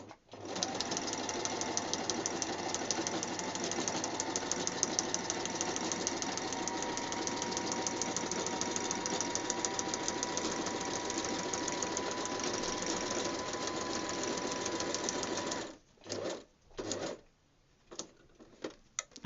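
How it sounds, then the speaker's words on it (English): A sewing machine stitches old curtain fabric for a dress in a fast, even run of mechanical clatter, then stops and restarts in a few short bursts at the end. "let me see whether I can sew around this crazy bookmark"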